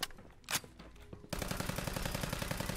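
Service Rifle mod firing in Fallout 4: a few scattered shots, then a sustained rapid-fire burst of loud, close gunfire in a tight rhythmic stream.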